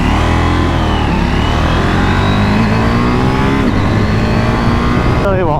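KTM 790 Duke motorcycle engine pulling hard on a country road near a village, loud and close with rising and falling engine pitch through the gears under steady wind roar, no voices clearly audible.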